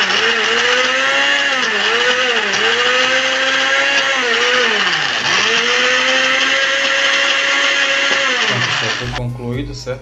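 A kitchen blender whirs loudly and continuously, its motor pitch wobbling as the contents churn, then cuts off near the end.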